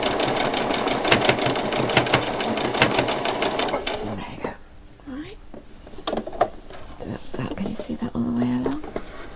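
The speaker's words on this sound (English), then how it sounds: "when we get to the end, don't forget to do that back stitch" A sewing machine runs fast and steady for about four seconds while stitching a back stitch, then falls quiet as someone talks softly and a few faint handling sounds follow.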